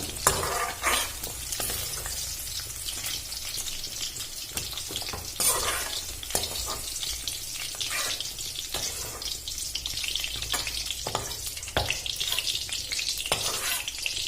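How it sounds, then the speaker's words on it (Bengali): Potatoes frying in oil until deep red-brown, a busy crackling sizzle up close with frequent scraping and clinking from stirring and lifting pieces out of the pan. "আমি আলুগুলো খুব লাল লাল করে ভেজে নেব।"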